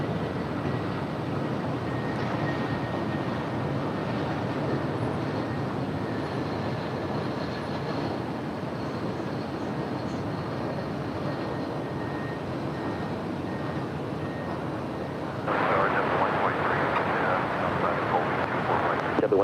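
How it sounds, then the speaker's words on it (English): A nine-year-old Aeromexico Boeing 737-800 departs LAX for Guadalajara, producing a steady, broad jet roar that holds throughout and swells louder for the last few seconds. "That is Aeromexico flight 785 about to depart to Guadalajara. It's a 9-year-old 737-800."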